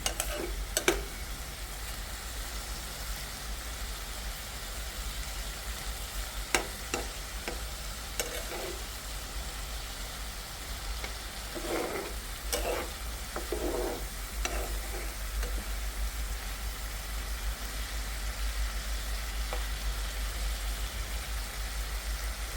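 Fish pieces fried in a pan are stirred and mixed, a low steady sizzle broken by scattered scraping and clinking strokes of a spatula, close by with no voices.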